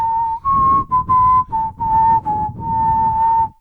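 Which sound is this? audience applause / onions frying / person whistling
person whistling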